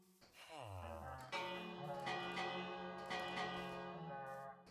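A bell rings in the Minecraft video game, with a sustained metallic tone that strikes again and decays over several seconds, heard faintly in the game audio.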